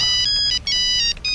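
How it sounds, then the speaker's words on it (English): A mobile phone ringtone plays loud and alone in an office-style setting, a bright repeating electronic melody in two bursts separated by short gaps. "Oh, my phone is ringing."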